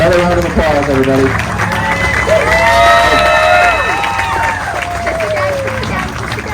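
A round of applause from wedding guests for the newlyweds, with clapping and scattered cheers and whoops filling the room at steady volume for the whole stretch.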